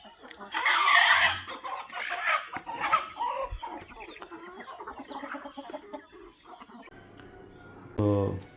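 Pure native country chickens cluck and call in a farmyard, with a louder burst early on and a rooster-like call near the end, mostly free of talk.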